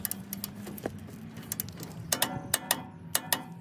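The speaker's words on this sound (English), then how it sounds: "So I've got my torque wrench set to 150" Torque wrench snapping and ratcheting as a suspension bolt is tightened to 150 ft-lb on a third-generation Toyota 4Runner, a series of sharp mechanical clicks growing louder and more clustered toward the end, with no talking.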